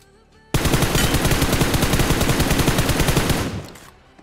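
Rapid automatic gunfire in PUBG Mobile, a dense sustained burst of closely spaced shots lasting about three seconds, loud and close, then tapering off into quiet.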